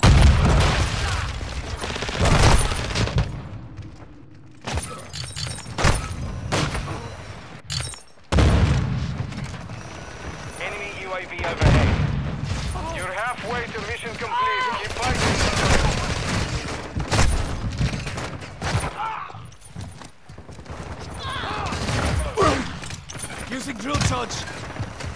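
Rapid bursts of gunfire in a Call of Duty: Modern Warfare II Kill Confirmed match on the Shipment map, loud and dense, with shots, blasts and mechanical clatter piling up while game voices call out over the firefight.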